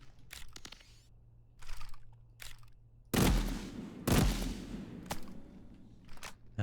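Pulse rifle firing in the game ADACA, sharp energetic zaps and bursts scattered irregularly, two especially loud blasts in the middle, over a low background hum.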